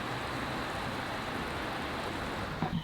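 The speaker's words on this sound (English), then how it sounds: "so I'm back, and so is the strong rainfall. It actually sounds quite romantic" Strong summer rainfall pouring down outside on a cold June day, a dense, even hiss of rain on surfaces that holds steady throughout, with a faint thump near the end.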